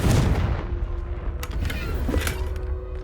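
Confringo blasting spell in Hogwarts Legacy: a sharp burst at the start followed by a few crackling pops and thuds, with a low steady hum underneath.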